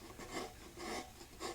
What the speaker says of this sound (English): all you're doing is making miniature facets as you carve